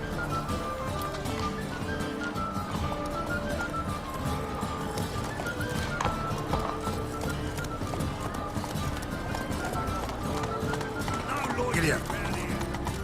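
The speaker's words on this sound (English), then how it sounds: "Whoa there, Roach." Roach, a horse in The Witcher 3, gallops with a steady, continuous clip-clop of hooves that runs throughout, with a neigh near the end and game sounds and voices around it.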